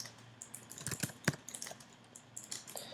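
Code typed on a computer keyboard: a close, quiet run of uneven key clicks with a few sharper taps, played alone with no voice.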